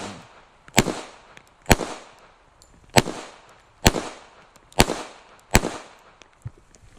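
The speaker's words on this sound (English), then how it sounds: "The 1911s are just fun to shoot." Six sharp gunshots from a 1911 pistol fired outdoors at a slow, even pace about a second apart, each a loud crack with a short decaying tail, without any talking.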